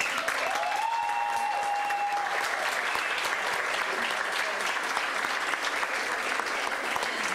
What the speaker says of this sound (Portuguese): Temos que dar prestígio para as pessoas que nos ajudaram. Calma. Um aplauso.